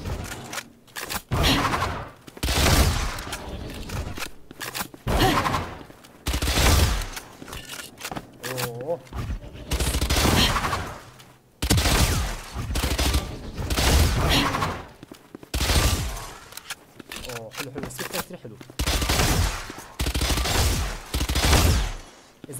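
Spectre submachine gun fire in Valorant with a weapon skin's effects, in repeated bursts of rapid shots separated by short pauses, loud and close. Reload sounds fall between bursts.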